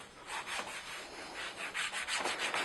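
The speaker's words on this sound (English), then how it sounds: "So now I take my 80 grit sandpaper, and what I like to do is bring it to the edge of the table like so." 80-grit sandpaper on a sanding stick scrapes along a foam armor edge in repeated back-and-forth strokes, close and fairly quiet, with no talking.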